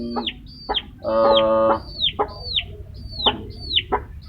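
A hen clucks close by in a run of repeated short calls, with one longer drawn-out cackle partway through, over quiet background noise.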